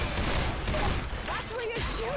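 Dense, continuous gunfire from teammates in the zombie shooter Left 4 Dead 2, a loud rattling barrage mixed with game noise and voices.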